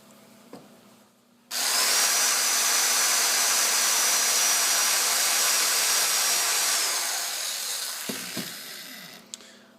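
A power drill with a 3/16 inch bit whines steadily while boring into a soft juggling ball, starting abruptly after a quiet moment and running continuously before tapering off.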